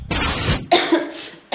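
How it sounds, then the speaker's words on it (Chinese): A person coughs loudly and close by, a long rough cough followed by a couple of shorter harsh bursts separated by brief silences. "医生，我咳嗽。"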